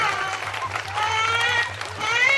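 Audience clapping at a Hindu religious gathering during a Shrimad Bhagavat katha on Krishna's birth, with steady applause mixed with tonal singing or chanting and a low rhythmic hum throughout.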